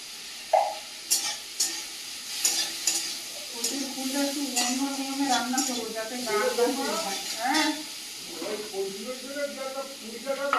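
Prawns sizzle and hiss in hot oil in a pan, with scraping as they are stirred; the frying runs steadily, and a person talks over it.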